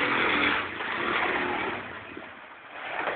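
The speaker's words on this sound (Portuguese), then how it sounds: "Segundo o teste do Luan com a própria moto." A motorcycle engine during riding practice on the rider's own bike, a steady mid-pitched drone that swells and eases as the throttle changes, heard at moderate distance with no talking.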